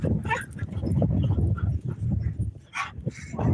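Dogs bark and whimper close by, broken yips and whines mixed through someone talking over them, in a tense indoor scene with the animals worked up.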